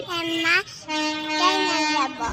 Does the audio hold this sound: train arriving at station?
yes